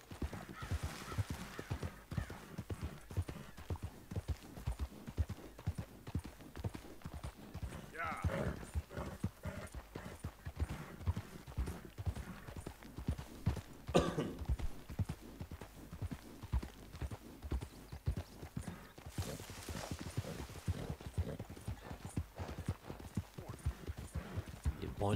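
Hooves clip-clop steadily at a walking gait as a horse travels in Red Dead Redemption 2, with an occasional whinny, a soft continuous rhythm running under someone talking throughout.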